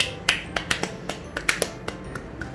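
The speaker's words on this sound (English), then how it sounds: "Clap your hands." A child clapping hands during a toddler homeschooling puzzle lesson, about a dozen sharp, uneven claps spread over a couple of seconds, close and fairly quiet, with no talking.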